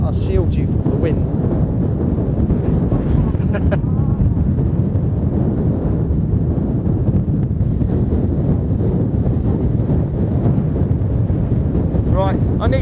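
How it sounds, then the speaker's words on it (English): Strong wind outdoors in Iceland buffeting the microphone, a loud, steady roar throughout, with people talking faintly beneath it. "Yeah, that'll shield you from the wind."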